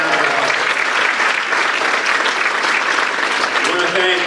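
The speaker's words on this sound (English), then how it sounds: "you can give her a big round of applause" Loud, sustained audience applause at an innovation awards event, dense clapping filling the whole stretch with little variation.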